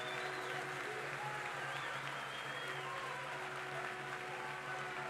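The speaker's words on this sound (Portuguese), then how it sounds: "Uma salva de palmas para os nossos congressistas aqui presentes" Steady, even applause fills a museum hall for congress members at a Ministry of Culture inauguration ceremony, continuous crowd clapping heard from some distance with a faint hum underneath.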